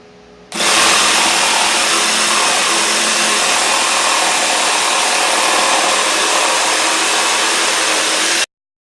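Ryobi P523 cordless jigsaw cutting wood at full speed, a loud, steady buzzing whine that starts abruptly, holds evenly for about eight seconds, then cuts off sharply.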